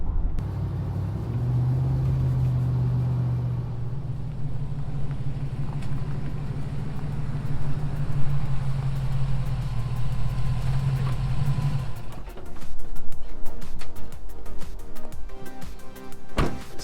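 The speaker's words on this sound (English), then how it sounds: "I love the sound. The exhaust is a delight." A cheap Chevy Tahoe with a broken engine and a 4-speed transmission drives along, its V8-style engine and exhaust rumbling steadily and close, with a low drone that shifts and grows rougher near the end.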